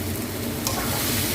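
Fried kohlrabi stirred in a hot pan with tomato and milk, a short burst of steady sizzling with a brief scrape of the spoon midway.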